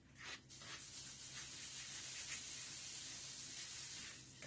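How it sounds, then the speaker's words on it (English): Cooking spray hisses steadily from a can onto a worn non-stick pan while blueberry pancakes are being made, one continuous soft spray lasting several seconds after a short initial burst. "Spray it with a little bit more cooking spray."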